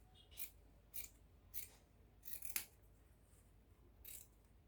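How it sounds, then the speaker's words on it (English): Scissors cut through ankara fabric for a circle gown in about six crisp snips spaced roughly half a second apart, close and quiet against a faint room hum. "I'm going to go ahead and cut this piece out"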